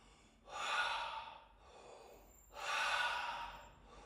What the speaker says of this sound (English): Breathe through the mouth.